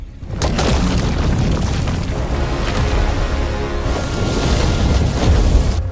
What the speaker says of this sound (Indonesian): Ledakan itu ternyata berhasil membuat Yoten terbakar sepenuhnya